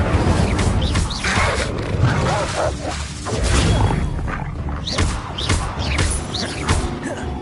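An Incendio fire spell cast in a Hogwarts Legacy wizard duel: loud whooshing magical bursts and crackling impacts over a thick, churning combat din, several sweeping swishes in quick succession.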